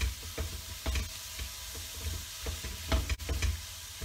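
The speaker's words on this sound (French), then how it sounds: "Ça chante, écoutez le beau bruit de la cuisson" Bell pepper cooking in a pan with spices for pineapple chicken, a steady close sizzle with scattered stirring clatters and scrapes throughout, no voices.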